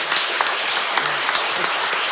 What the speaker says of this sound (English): I know we're going to give them a big round of applause